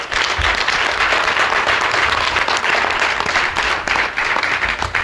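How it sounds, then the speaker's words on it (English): Audience applause at the NAACP Leadership 500 awards dinner in 2014, a sustained, loud round of hand clapping from a large room of diners, dense and continuous, with brief cheers mixed in. "Let's give her a big, big round of applause."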